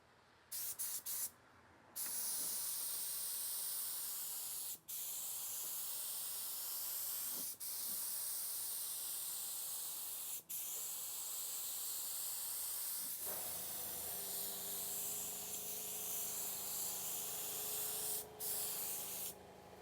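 Long, nearly continuous hissing bursts of aerosol spray paint being applied to a Pontiac GTO, close and steady with brief pauses between passes and faint handling noise; no talk.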